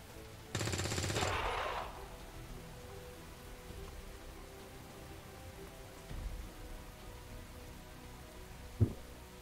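Video game gunfire: a short burst of rapid fire near the start, then a quiet background with a faint thump and a single sharp shot later.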